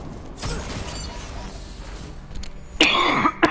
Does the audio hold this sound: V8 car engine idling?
no